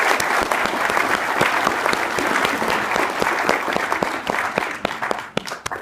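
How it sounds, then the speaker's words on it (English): An audience at a Toronto Hydro Talks panel event at Georgian College in 2016 gives a long, dense round of applause that thins out toward the end. "Let's give our panel a round of applause."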